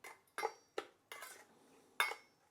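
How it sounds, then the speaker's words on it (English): Utensil clinking against a bowl while mixing a ginger-garlic coriander dipping sauce with sesame oil, several distinct taps and scrapes in an irregular rhythm, close and fairly quiet, no voices. "Next thing is to blend everything up. Sorry, is to mix everything up together."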